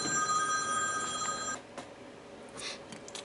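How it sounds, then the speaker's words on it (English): A telephone rings with a repeating electronic warble for about a second and a half, then stops, leaving quiet workshop room tone and small handling noises. "And my phone is going off,"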